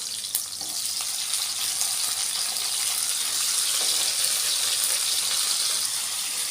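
Potatoes go into hot oil with onion and cumin and fry with a steady, close, loud sizzle that holds evenly throughout, with faint stirring clinks near the start.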